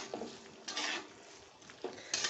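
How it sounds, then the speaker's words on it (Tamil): Stingray sambal gets stirred in a pan after lemon juice goes in, with a steady low sizzle under intermittent scraping sweeps of a spoon against the pan and no talking. "ஊற்றிக்கிட்ட பிறகு நல்லா கிண்டி விடுங்க"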